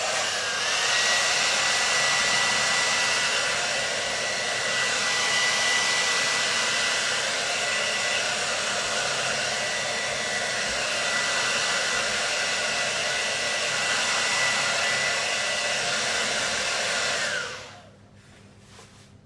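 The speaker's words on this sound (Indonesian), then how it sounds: "Oke, kita pakai hair dryer." A hair dryer blows on a styled sunggar hairdo with a steady, loud, close whooshing roar for about seventeen seconds, then cuts off abruptly into near silence.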